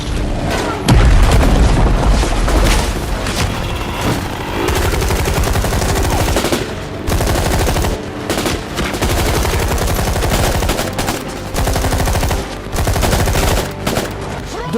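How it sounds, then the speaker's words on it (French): A rocket launcher blast bursts out loud in a war film, then dense machine gun fire and heavy booms rattle on continuously in a chaotic battle mix with no pauses. "Lance-roquette."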